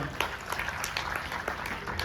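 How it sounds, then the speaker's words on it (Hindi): Audience applause during a Jainism talk: a dense, steady patter of many hands clapping at moderate distance, fairly quiet and sustained throughout without a break. "एक बार जोरदार तालियां"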